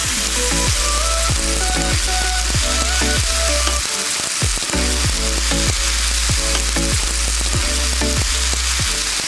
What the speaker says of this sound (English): The peaches only really need a couple minutes on each side